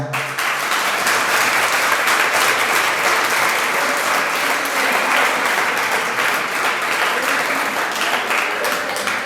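Sustained applause from a large audience at a Jain religious discourse, a dense, steady wash of clapping filling the whole clip at even loudness with no voices over it.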